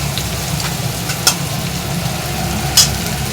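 Chicken fries in a pan with a loud, steady sizzle, broken by two brief sharp clicks.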